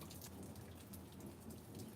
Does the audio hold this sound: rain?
yes